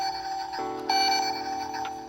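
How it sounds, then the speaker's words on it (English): A toy Sea-Monkeys Explor-A-Sub submarine plays an electronic radar-style beep: a steady, close, bright tone that shifts pitch partway through and holds, with no talk. "One beeps like a submarine radar"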